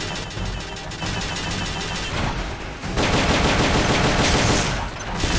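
Sustained automatic gunfire in Metal Gear Solid Peace Walker, loud and continuous rapid shots that grow denser partway through, with no talking.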